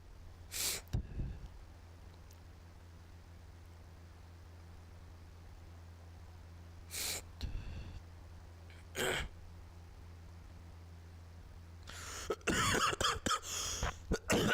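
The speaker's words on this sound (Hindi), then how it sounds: "ताऊ का खांसी होगी भाई" A few sharp coughs ring out separately in a quiet room, followed by a rapid burst of coughing and throat clearing near the end.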